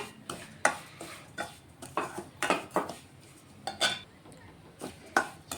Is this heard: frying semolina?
yes